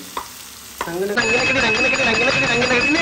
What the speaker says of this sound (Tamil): தக்காளி வந்து நல்லா வதங்குற வரைக்கும் வதக்கிட்டே இருக்கலாம்.